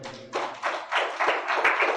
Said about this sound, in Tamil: ஒரு கைத்தட்டு கொடுக்கணும் இந்த இடத்துல